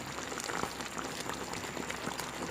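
Pork afritada simmering in a pot, a steady bubbling sizzle with faint scraping and stirring clatter throughout, close and fairly quiet, with no voices.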